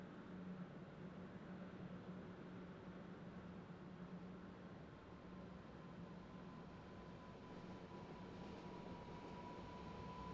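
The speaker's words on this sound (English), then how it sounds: "Oh, here comes another train." A train arrives at a station in the Train Simulator 2017 game on the Brighton to London route, heard as a steady, faint, continuous rumble with a soft hum and no talk.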